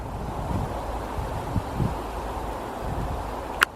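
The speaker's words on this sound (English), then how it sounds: "Yeah, it's getting windier." Wind gusts through pines on a dry hike, a soft steady rush with a few brief louder buffets and one sharp knock near the end.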